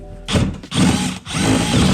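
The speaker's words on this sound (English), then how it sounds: "You don't know what you're drilling into up there." A power drill with a spade bit whirs loudly up close, briefly stopping and restarting twice, its grinding hum rising as it bites into a Nissan 350Z bumper.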